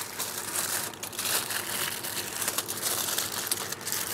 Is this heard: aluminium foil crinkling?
yes